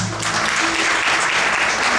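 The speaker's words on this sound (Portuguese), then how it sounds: "Quantos podem aplaudir" A church congregation applauds in a dense, steady wash of clapping that fills the room, loud and continuous with no voices over it.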